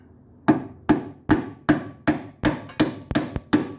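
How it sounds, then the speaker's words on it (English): A new brake hose part is tapped into place with a run of about nine sharp, evenly spaced hammer knocks, close and loud with no voices. "let's see if we can tap it on there"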